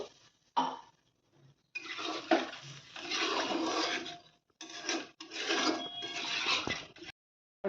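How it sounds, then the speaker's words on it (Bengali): Water is poured into a cooking pot holding potatoes for a Bengali fish curry. It comes in several close, rushing bursts separated by short pauses, with no talking. "এবার জল দিয়ে দেবো বেশি জল দেবো না এইটুকুনি দেবো"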